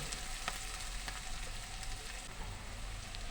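Onion and green chilli fry gently in oil in a pan, a soft, even crackling hiss that stays faint and unbroken throughout.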